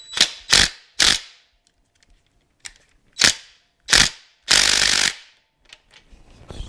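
A ratchet wrench works a tight bolt on a Suzuki TS250 motorcycle during teardown, giving loud, close, clicking bursts in an uneven rhythm with brief pauses and one longer grinding stretch.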